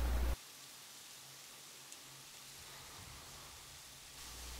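A soft, steady hiss like rustling static fills the air, two to three thousand garter snakes hissing and milling on a den floor, after a brief louder burst at the start.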